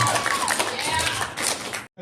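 A comedy club audience bursts into applause and cheering, a dense wash of clapping and crowd noise that holds steady for about two seconds before cutting off abruptly.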